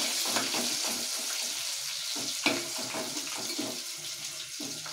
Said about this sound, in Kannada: ಒಂದು ಸ್ಮಾಲ್ ಬೆಳ್ಳುಳ್ಳಿ ಮತ್ತೆ ಒಂದು 1/2 ಇಂಚ್ ಶುಂಠಿನ ಕ್ರಶ್ ಮಾಡ್ಕೊಂಡಿದ್ದೀನಿ, ಅದನ್ನ ಹಾಕೋಣ